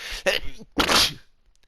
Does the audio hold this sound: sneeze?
yes